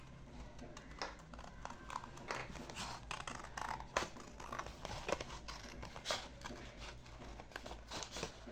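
Scissors trimming out a paper bow pattern, a close, steady run of small snips and paper rustles, quiet and continuous.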